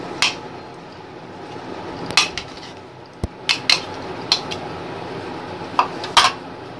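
Undhiyu ingredients being mixed in a metal pot with a spoon, sparse clinks and scrapes of utensil on metal spaced irregularly over a quiet kitchen background.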